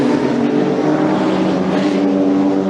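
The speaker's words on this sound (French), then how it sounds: "La vingtaine de bolides de ces 500 Nocturnes 2018 qui va s'élancer à partir de top maintenant sur le circuit de l'Anneau du Rhin" About twenty race cars launch at the start of the 500 Nocturnes 2018 night race at the Anneau du Rhin circuit, their engines merging into one loud, continuous roar close by, with no talking.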